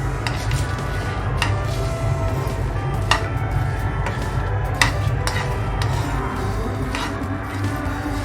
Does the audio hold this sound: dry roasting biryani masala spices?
yes